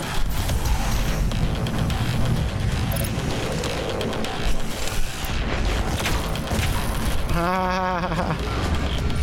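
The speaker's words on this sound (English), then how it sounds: "Beautiful explosions." Heavy explosions and combat noise in the shooter game Doom Eternal, loud and continuous booms and blasts with a brief voice heard over the din.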